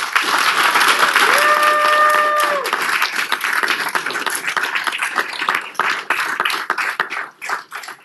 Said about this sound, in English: So if we can just give a round of applause to all of our immigrants and refugees.